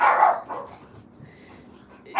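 A dog gives a single short, loud bark up close, followed by quiet room sound, with the start of another bark at the very end.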